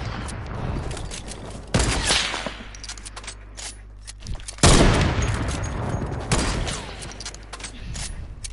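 Bursts of rapid video-game gunfire crack out in several loud volleys from a duos match on a playground map, separated by quieter stretches of background game sound.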